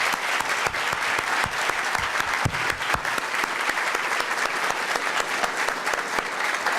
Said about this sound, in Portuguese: E eu gostaria de pedir uma salva de palmas para o Dr.